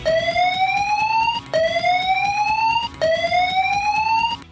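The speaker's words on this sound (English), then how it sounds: "In the case of a fire or other emergency that requires evacuating the building, you will hear this alarm" Evacuation fire alarm inside a foundry building, three loud rising electronic whoops repeating steadily one after another, sounding alone without any voices.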